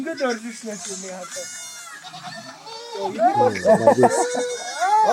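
Sheep bleating during shearing in Mongolia, several wavering calls rising over steady close-up talk and handling noise, the bleats loudest toward the end.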